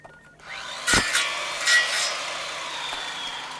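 Saw cutting through material as a sound effect, a close, harsh rasping that rises from a short lead-in into several rough strokes before trailing off, with no talking.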